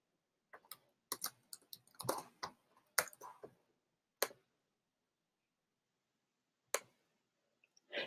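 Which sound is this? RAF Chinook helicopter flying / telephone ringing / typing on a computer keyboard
typing on a computer keyboard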